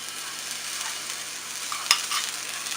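Minced garlic hits hot extra virgin olive oil in a pan, giving a steady close-up sizzle and hiss with a sharp clink partway through as it is stirred.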